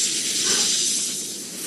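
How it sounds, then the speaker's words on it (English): A snake's hiss, a steady broadband rush that holds at a loud level for just under two seconds before easing slightly toward the end, heard alone without speech. "c'est un serpent."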